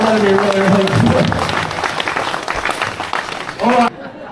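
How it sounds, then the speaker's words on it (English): Audience applause for a woman named Kelly at the Longreach stockman museum show in western Queensland, clapping mixed under someone speaking over it, fading away toward the end before a final spoken phrase. "So you guys can give Kelly a big round of applause now"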